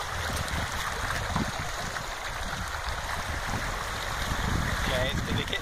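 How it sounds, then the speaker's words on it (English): Water surges and splashes steadily around a vehicle driving through a flooded road at Keltie Bridge in the Trossachs, a continuous close churning wash with no talk. "Water."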